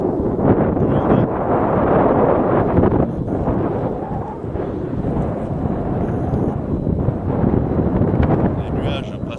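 Cold, strong wind blows outdoors where wind turbines turn and clouds race overhead, a steady, close rumbling roar buffeting the microphone without pause.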